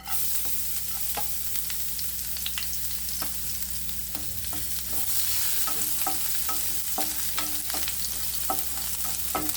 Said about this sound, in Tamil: எண்ணெய் காஞ்சிருச்சு நறுக்கி வச்சுருக்க பூண்டு ஆட் பண்ணிடலாம்